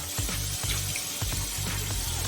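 Tap water runs steadily into a sink, a continuous hissing splash with faint intermittent knocks and bumps, fairly close and with no talking.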